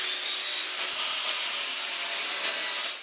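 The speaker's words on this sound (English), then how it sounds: "the next step is to cut a 45-degree bevel in each of our roof boards" A power saw whines steadily as it cuts 45-degree bevels in wooden birdhouse roof boards, a loud, continuous high-pitched rasp with no talking.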